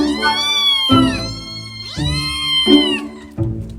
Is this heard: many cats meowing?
yes